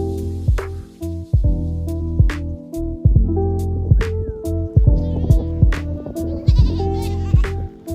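Goats bleating loudly and close by at a mountain site near Jade Dragon Snow Mountain, Lijiang, China: a run of repeated wavering bleats, several overlapping, with no talk over them.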